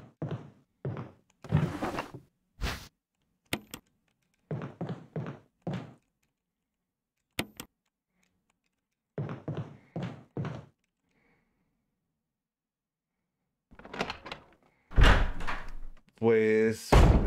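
A locked door rattles and thunks without opening in Resident Evil Remastered, a few short dull knocks spaced between stretches of talk, with a louder thump near the end.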